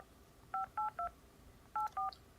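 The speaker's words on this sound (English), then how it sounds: "Here go the phone calls." Telephone keypad tones sound as five clean DTMF beeps, three quick ones and then two more after a short pause, in an otherwise quiet background.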